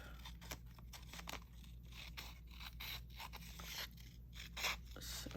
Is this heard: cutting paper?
yes